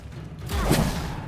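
Confringo fire spell blast in the wizarding game Hogwarts Legacy: a single rushing, roaring burst that swells after a quiet start and lingers as a low rumble.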